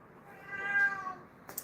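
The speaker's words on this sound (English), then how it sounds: "He's just meowing." A pet cat given catnip lets out a drawn-out, wavering meow close by, followed by a couple of brief faint sounds near the end.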